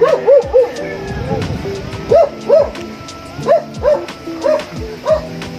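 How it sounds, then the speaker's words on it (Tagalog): Guard dogs on a farm give repeated short barks and yips in a steady rhythm, fairly close and loud, with a person talking over them between bursts. "Yan ang aking mga guardian dog dito sa farm."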